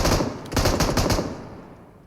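Automatic gunfire from the mobile battle royale game PUBG Mobile, a rapid burst of shots lasting about a second, loud and close, then trailing off into quieter background game noise.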